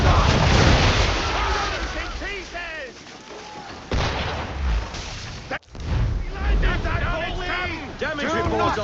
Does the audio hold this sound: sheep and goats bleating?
no